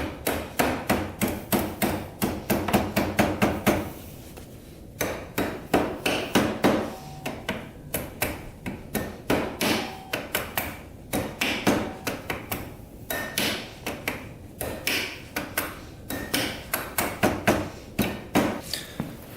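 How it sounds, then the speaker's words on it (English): Steady repeated rubber hammer blows on a Yamaha Breeze quad, loud and close, striking in quick rhythmic bursts with short pauses between runs. "Kind of hammer on it a little bit with a rubber hammer."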